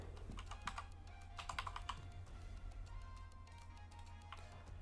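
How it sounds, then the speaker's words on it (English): Quiet, close computer-keyboard typing in short clusters of clicks, faint under a low steady background hum, with no voices. "You can type whatever you want."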